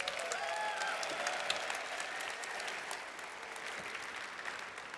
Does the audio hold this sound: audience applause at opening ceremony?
yes